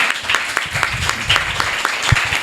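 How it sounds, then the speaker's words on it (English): Applause rises from an audience after a talk, a moderate spread of scattered, uneven clapping with some sharper nearby claps. "Let's give him a big round of applause."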